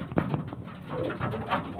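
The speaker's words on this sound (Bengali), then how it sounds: "খুবই সুন্দর পায়রা।" A short burst of soft, throaty cooing from nearby pigeons kept for sale at a breeder's house, a few low calls running together at an even level.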